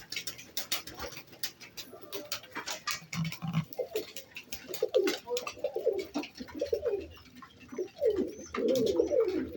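Şeka Kanat pigeons coo in a coop, low rounded coos repeating in overlapping bursts at close range, with faint scratching and rustling in between and no talk.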